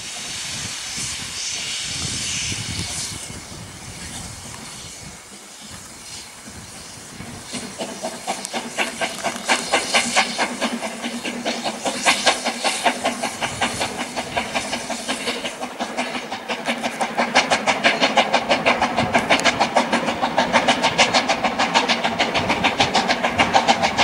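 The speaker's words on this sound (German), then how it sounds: "Und hier sieht man gerade schön, wie die Dampflok jetzt losfährt." Steam locomotive of the Brocken railway in the Harz pulling away, loud hissing steam at first, then rapid rhythmic chuffing exhaust beats that grow steadily stronger as it departs.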